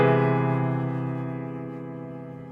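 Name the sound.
augmented major seventh chord in root position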